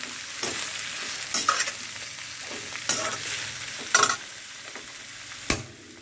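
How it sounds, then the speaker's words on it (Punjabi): Onions and cumin frying in a pan for bhindi sabji are stirred: a steady sizzle broken by about five scraping strokes of a spoon against the pan, close and clear with no talk. "ਪਿਆਜ਼ ਪਾ ਲੈਨੇ ਆ ਤੇ ਇਹਨਾਂ ਨੂੰ ਹਿਲਾ ਕੇ ਚੰਗੀ ਤਰ੍ਹਾਂ"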